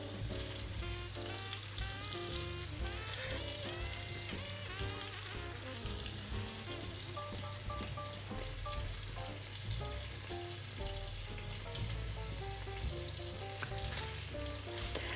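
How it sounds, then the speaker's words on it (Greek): Chicken pieces coated in corn flour fry in a pan, giving a steady, dense sizzle that runs evenly and fairly close throughout, with no voices over it. "Οπότε τηγανίζονται η πρώτη παρτίδα, εμείς ετοιμάζουμε τη δεύτερη."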